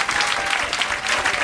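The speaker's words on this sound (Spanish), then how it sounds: "Fuerte el aplauso para" Audience applause on a comedy show welcoming a lecturer, a dense burst of clapping from a studio crowd, loud and sustained.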